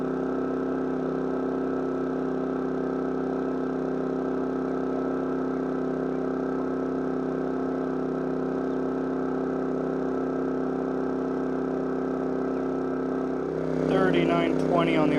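A Champion 4000 or Wen 3600 dual fuel generator running under an electrical load: a loud, steady, even engine drone that holds throughout, with a brief rougher change in tone near the end.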